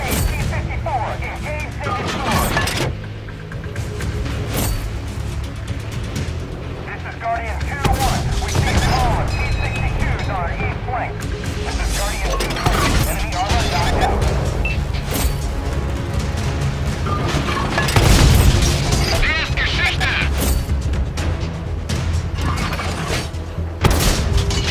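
Tank cannons boom in World of Tanks, with repeated heavy shots and rumbling impacts spread through a noisy battle, and voices talking over the fire.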